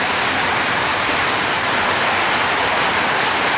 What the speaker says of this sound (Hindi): क्योंकि बारिश लगातार लगे जा रही है।